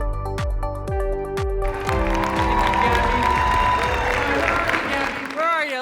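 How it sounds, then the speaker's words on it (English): Audience applause for Gabby Flores at the Teen Impact Awards ceremony, a broad wash of clapping from a large crowd that swells after a few sustained music notes and carries on steadily. "Big round of applause for Gabby Flores."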